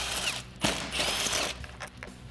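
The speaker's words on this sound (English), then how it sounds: "Now we can grab a 13mm socket and remove the 8 bolts that are holding on our spare tire carrier." A 13mm socket on a ratchet or driver works loose one of eight bolts holding the spare tire carrier on a Jeep Wrangler JL, giving close mechanical whirring and clicking bursts in short spells.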